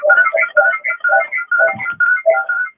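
Phone ringtone going off during an online meeting, a melodic repeating pattern of bright tones in short bursts, loud and close, with no talking over it.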